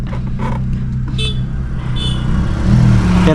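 A car pulling away on a slope, its engine running steadily and rising in revs near the end, loud and close, with faint passing traffic behind and no talk.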